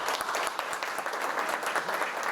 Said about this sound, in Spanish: Los aplausos que les brindaron a Joaquina Garzón y Gonzalo Jiménez son el homenaje a un par de guerreros inclaudicables